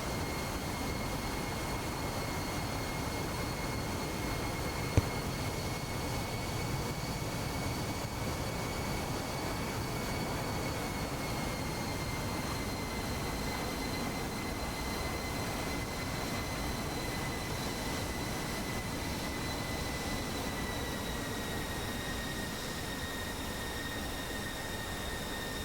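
A video game aircraft coming in to land during a team air-combat match: a steady, loud engine roar with a high, sustained whine that slowly dips in pitch, continuing unbroken with no voices.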